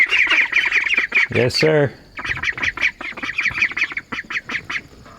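Young Silver Appleyard ducklings keep up a busy chorus of high cheeps with rougher quack-like notes mixed in, close by, while a person briefly speaks over them.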